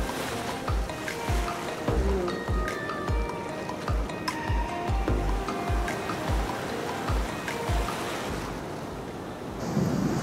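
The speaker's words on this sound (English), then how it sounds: "I'm enjoying going out here playing in the waves" Ocean surf rolls and breaks on the beach at Destin, Florida, a continuous washing roar with repeated surges and wind buffeting the microphone, no voices.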